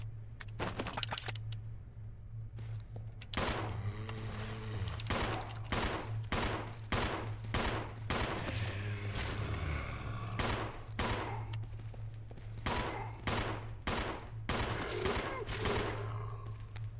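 Gunfire in the Resident Evil 0 survival horror game on hard mode, a long series of sharp separate shots fired at an irregular pace, about a dozen loud cracks over a steady low hum.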